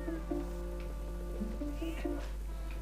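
A cat in the video game Zelda: Twilight Princess meows repeatedly in short, whiny calls over a steady low hum and game background sounds, and someone talks over it.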